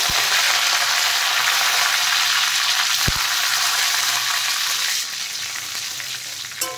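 Dry red chilli, whole cumin, mustard seeds and curry leaves sizzle loudly and steadily in hot oil for a Bengali sabudana upma tempering, a dense crackling hiss that eases slightly near the end with one brief clack.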